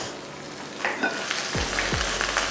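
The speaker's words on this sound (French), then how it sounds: "Ça prouve que nous sommes en train de faire cuire." Food sizzles steadily in a saucepan with a constant crackling hiss, and a few soft knocks and scrapes of stirring come in partway through.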